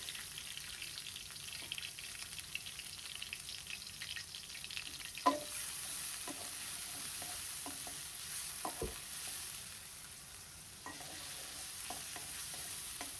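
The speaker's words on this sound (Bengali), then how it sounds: "পেঁয়াজটা ভাজা হোক" Onions frying in a pan while cooking a country chicken curry with gourd and potato, a faint steady sizzle with occasional stirring scrapes and knocks, no talking.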